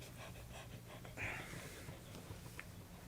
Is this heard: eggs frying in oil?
no